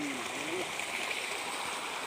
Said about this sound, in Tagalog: Maliit lang, pero ang liit lang ng talon.